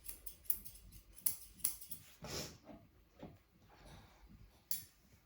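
Scissors snip repeatedly at close range while trimming a Shih Tzu's head hair, sharp metallic cuts arriving in irregular bursts with soft rustling between them.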